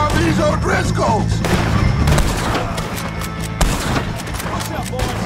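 Gunfire in Red Dead Redemption 2 during a shootout with O'Driscoll gang members, loud sharp shots cracking in rapid irregular bursts over a rumbling battle background, with shouting voices mixed in.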